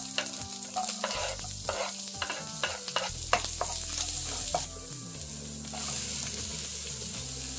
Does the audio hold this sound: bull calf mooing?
no